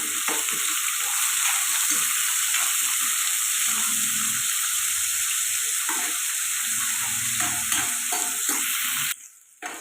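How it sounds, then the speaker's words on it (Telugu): Potato and carrot pieces stir-fry in an uncovered pan with a constant loud sizzle, broken by softer scraping stir sounds and a brief clatter near the end; no one speaks. "ఇవన్నీ బాగా కలుపుకొని మూత పెట్టకుండా ఇలాగే ఫ్రై చేసుకోవాలండి ఇలా ఫ్రై అవుతున్నాయి కదండి"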